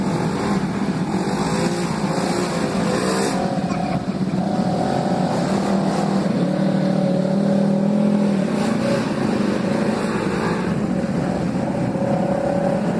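Off-road vehicle engine working hard up a rutted hill on an off-road trail ride, loud and close, with a continuous throaty drone that rises and falls as the throttle is fed in, and voices occasionally under it.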